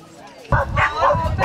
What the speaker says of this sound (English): But we have all the puppies in.